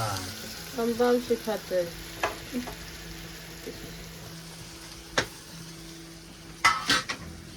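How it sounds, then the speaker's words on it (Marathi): Prawns and onion fry in a pan, with a steady sizzle and scattered sharp scrapes and clinks as a spoon stirs against the metal. A voice murmurs briefly in the background. "तर आता मस्तपैकी मिक्स करावं लागेल कोलबी"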